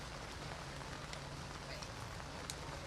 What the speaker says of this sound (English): And I hear raindrops.